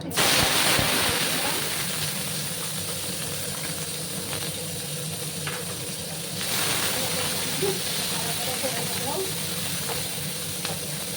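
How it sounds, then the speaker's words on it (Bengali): Onions frying in a pan for a pointed gourd and egg recipe, a continuous bright sizzle holding steady for several seconds with faint clinks. "সময় আমি পেঁয়াজগুলোকে ভেজে নিচ্ছি বন্ধুরা"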